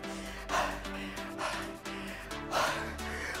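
Someone breathes heavily after a dumbbell HIIT workout, with three loud, gasping exhales at a steady pace, close up and with no words.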